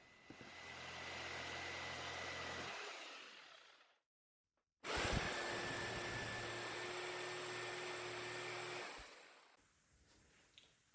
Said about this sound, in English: use my jigsaw to cut the curve